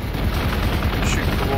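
Space marines fire weapons in the Warhammer 40k Gladius strategy game, producing a dense, continuous barrage of loud overlapping gunshots with no breaks.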